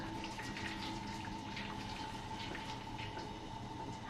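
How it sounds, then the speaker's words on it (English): A steady stream of boiling water pouring and splashing continuously into an oven pan, fairly close, with no talking over it. "And in here, pouring in the boiling hot water"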